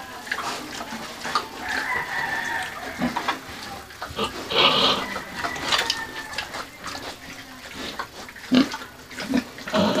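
Hungry young pigs, under three months old, grunt and squeal in a farm pen, with chickens clucking and a rooster crowing in the background, irregular bursts near and loud.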